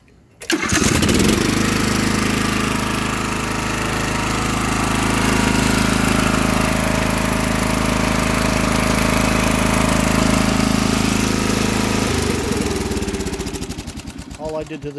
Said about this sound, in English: Let's fire this thing up, show you what it sounds like.